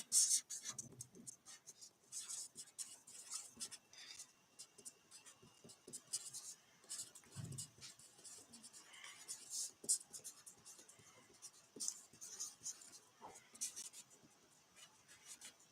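Pen writing on a board or paper during a Turkish fifth-grade project design class review, with scratchy strokes and taps coming in irregular bursts throughout. A voice murmurs faintly in the background.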